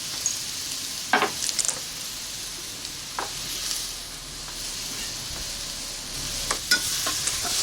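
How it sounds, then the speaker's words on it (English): Turkey stir-fry sizzles steadily in a wok over a rocket stove, with scattered scrapes and clinks of stirring as cornstarch slurry is worked in, close and continuous without talk. "I'm going to mix up some cornstarch as a slurry"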